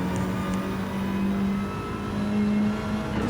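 A race car in a racing video game at Daytona Speedway revs steadily through its gears, giving a continuous buzzing engine drone with slight pitch shifts and no voices over it.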